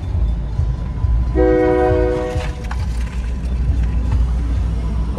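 A train horn sounds one sustained blast over the heavy rumble of a passing train, loud and close, while the rolling noise continues steadily after the horn stops.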